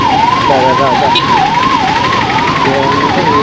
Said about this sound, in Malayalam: ഒരു പോലീസ് വണ്ടി വെറുതെ സൈറൺ മുഴക്കി പോണു.